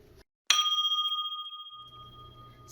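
A bell struck once, ringing out clear and close, then fading slowly over about two seconds while a low hum comes in underneath.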